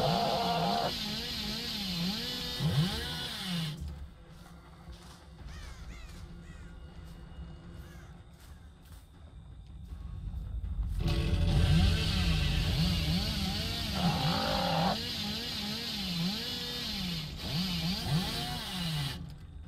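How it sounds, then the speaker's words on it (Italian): Hillbilly's chainsaw in the horror video game Dead by Daylight, revving in surging bursts that rise and fall several times, loud and close over a rumbling game backdrop, with no talk. "Devo cercare di non surriscaldare la motosega perché è l'unica cosa che posso usare per muovermi a destra e a sinistra."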